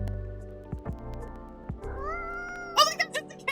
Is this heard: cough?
no